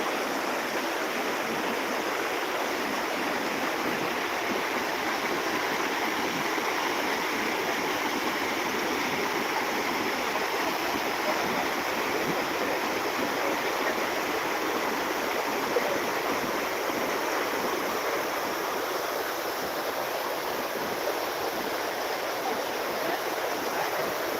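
Floodwater rushes through Kase village in Sangameshwar, Konkan, a steady, dense roar of fast-moving water that stays loud and unbroken throughout with no voices.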